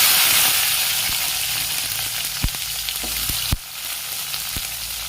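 Curry leaves, dried red chillies, garlic and onion fry in hot oil for a mint chutney, giving a loud, steady, close sizzle with scattered sharp pops and spatters that eases slightly partway through.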